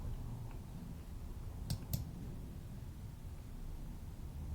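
A computer mouse clicking while navigating a regional productivity dashboard: two quick, light clicks in close succession, faint against a steady background hiss.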